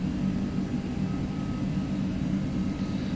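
Simulated airliner engines roar steadily during takeoff in a Prepar3d Aerosoft A330 departing New York, a dense continuous low rumble with a faint whine, no voices.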